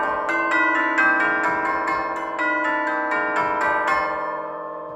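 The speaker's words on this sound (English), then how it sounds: "They sound very much like church bells" Tubular bells in a percussion demonstration ring out a quick run of bright, struck metallic notes with long shimmering sustain, close and loud, resembling church bells, the ringing slowly fading at the end.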